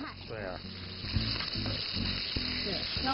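Water bamboo stems frying with salt in a pan give a steady, close sizzle with repeated stirring scrapes, and faint voices sit underneath.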